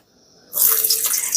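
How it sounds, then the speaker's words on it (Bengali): Small cauliflower florets, cut for singara, dropped into hot oil, bursting into a loud, steady sizzle about halfway through after a quiet start, with no talking. "কপিগুলো ভেজে নেওয়ার জন্য তেলে দিয়ে দিচ্ছি"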